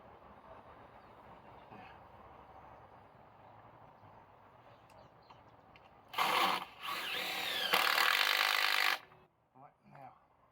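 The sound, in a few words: driving screws into wood for a chicken house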